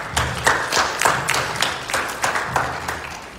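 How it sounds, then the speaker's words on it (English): A crowd at a club gathering claps together in a quick, roughly even rhythm, the beats loud and close for a few seconds. "Big clap for that."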